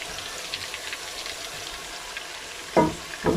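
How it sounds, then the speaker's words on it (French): Onions simmering in a pan for a spinach and beef sauce, a faint steady sizzle with two short louder stirring scrapes near the end. "Je laisse mijoter les oignons quelques 30 secondes."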